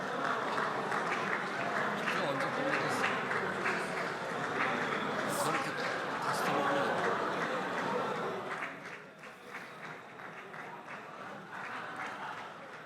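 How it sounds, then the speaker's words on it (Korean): Sustained applause from ruling party lawmakers in the South Korean National Assembly chamber, continuous clapping that fades somewhat toward the end, with a reporter talking over it. "여당 의원들도 박수로 지금 박수를 계속 이어가는 모습입니다"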